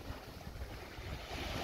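Westerly wind blowing over a choppy sea at a beach in Nerja while surfcasting, a steady broadband rush of gusts and surf filling the whole clip with no voices.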